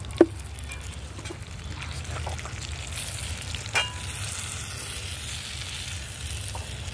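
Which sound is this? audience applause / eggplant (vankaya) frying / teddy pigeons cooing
eggplant (vankaya) frying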